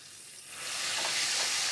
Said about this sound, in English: you add your onion, then you let your onion caramelize